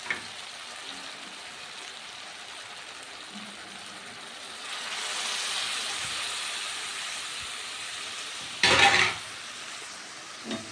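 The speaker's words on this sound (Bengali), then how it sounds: "একটু নেড়ে করে নেবো হালকা হাতে।" Ground spices with a splash of water are gently stirred in a pan for egg curry, giving a low continuous sizzle that swells midway, with a brief sharp scrape of utensil against pan near the end.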